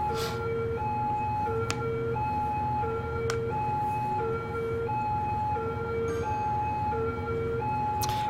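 Police car siren from the city-building game Cities Skylines, a steady two-tone wail alternating evenly through the whole stretch over a constant bed of traffic rumble, with a couple of brief sharp clicks.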